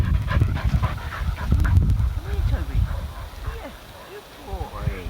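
A hyperactive springer spaniel pants in quick, breathy bursts close by outdoors on a Sunday morning, mixed with rustling, a few bird calls and people talking and calling the dog.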